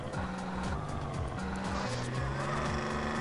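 A car turning around in GTA San Andreas, its engine droning steadily with rising and falling pitch sweeps as it manoeuvres, heard over continuous game background sound.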